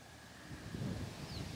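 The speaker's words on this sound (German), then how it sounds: "Und ja, nun kommt der Wind noch dazu," Wind gusting through a garden in June, a broad, steady rushing noise that swells slightly midway, steady and without voices.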